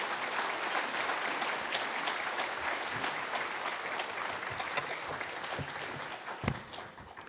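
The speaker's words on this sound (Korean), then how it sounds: "큰 박수로 맞이해 주시기 바랍니다" A church congregation applauds to welcome the pastor at a Sunday worship service, steady moderate clapping from a large group across the room with a few sharper claps near the end.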